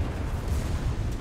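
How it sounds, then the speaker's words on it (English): Muffled gunfire from a video game, a dense low rumble of shots and booms that blur together rather than cracking out separately. "Hearing a few gunshots."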